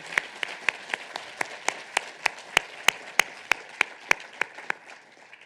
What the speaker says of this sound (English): give a round of applause to our wonderful award recipients tonight